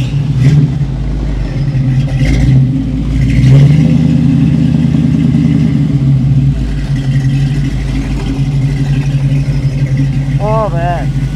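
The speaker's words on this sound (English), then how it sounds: "It's got a performance camshaft in it. It's got that rumble to it, it's just beautiful." A 1930 Ford hot rod engine with a performance camshaft rumbles steadily at idle up close, a deep loping low end running throughout, with a voice talking over it partway.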